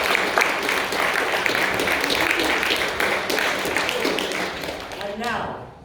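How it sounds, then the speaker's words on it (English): Crowd applause at a FIRST LEGO League regional competition in Coventry, dense continuous clapping that holds for several seconds before tapering off at the end. "we thought we'd give them another round of applause"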